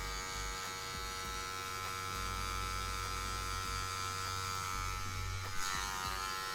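Electric hair clippers buzz steadily and close up while cutting a fade with a number 1 guard, a continuous motor hum with slight shifts in tone as the blade moves through hair, no talking.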